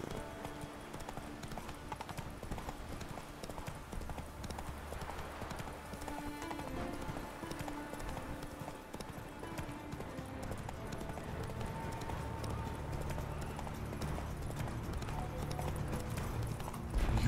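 Roach, the horse in The Witcher 3, gallops with rapid, steady hoofbeats over faint game music, and the run continues the whole way through.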